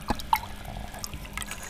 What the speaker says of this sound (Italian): Continua ad immergere nell'acqua il microfono